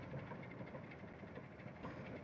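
A steady, low rumble fills the space, like a train rolling along inside the Gorilla Tag video game, with a continuous wash of noise and no distinct clacks or voices.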